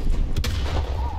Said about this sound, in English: Got that artillery, baby.